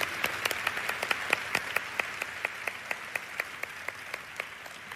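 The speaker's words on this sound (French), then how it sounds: "Nous allons applaudir nos internautes qui regardent par streaming." Audience clapping at a church service, a thin scattering of hands with distinct individual claps at an irregular rhythm, fairly faint and somewhat distant, continuing steadily throughout.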